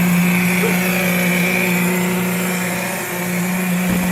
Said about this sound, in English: the pump will run for 5 minutes